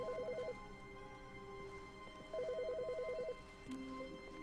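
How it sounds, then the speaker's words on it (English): A telephone rings in the video game The Stanley Parable, sounding two bursts of a rapid warbling electronic trill separated by a pause, moderately loud over a quiet ambient hum. "There's a phone call."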